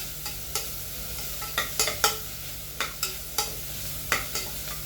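Onions fry in a pan with a low, steady sizzle, while a spoon scrapes and stirs in a dozen or so sharp, irregular clicks up close.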